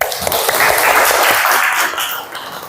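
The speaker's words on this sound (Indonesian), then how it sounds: "kasih tepuk tangan semuanya" Students in a classroom give a short burst of loud, close applause that fades slightly at the end.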